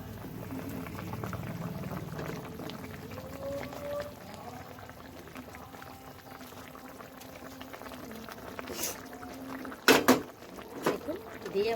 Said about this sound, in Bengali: দেখুন ঝোলটা একদম ফুটে উঠেছে